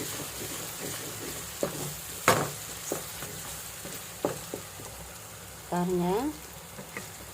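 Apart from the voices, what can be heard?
onions and tomatoes sautéing in a pan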